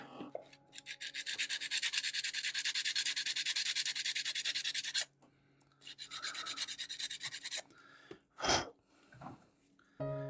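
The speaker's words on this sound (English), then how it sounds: "So sanding stick." Steady abrasive rubbing of a sanding stick on a Gaslands miniature model, two long continuous bursts separated by a short pause, then a few brief scrapes and a louder bump near the end.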